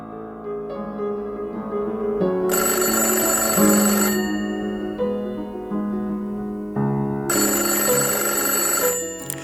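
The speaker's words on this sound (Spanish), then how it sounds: "Todo comenzó por una llamada de teléfono al filo de la medianoche." An old-fashioned telephone bell rings at midnight as a radio drama effect, loud and close in two long bursts separated by a short pause, with no voices present.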